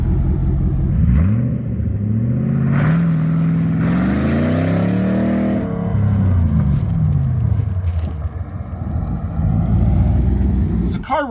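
A Chevrolet Corvette ZR1, flood-damaged and newly repaired, drives with its engine revving up and down in repeated sweeping pulls, a loud close roar under someone talking.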